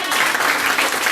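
A church congregation claps in a dense, steady burst of applause throughout, loud and close, with no speech over it.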